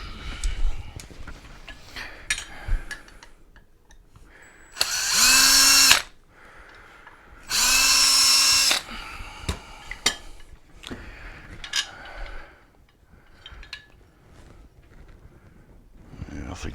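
A power screwdriver runs in two bursts of about a second each during repair work on a Drive ZooMe Autoflex mobility scooter, loud and close, with tool clinks and movement between the bursts and no talking.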